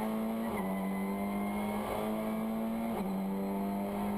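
A TCR touring race car at Korea International Circuit is heard onboard, its engine droning steadily at high revs with brief dips at gear shifts, loud and constant with no talk.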